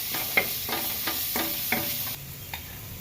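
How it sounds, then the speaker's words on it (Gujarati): Garlic roasting in oil sizzles and hisses in a pan, punctuated by several evenly spaced stirring scrapes, then a quieter sizzle and one last scrape. "લસણને આપણે પહેલાં બે મિનિટ શેકી નાખીએ"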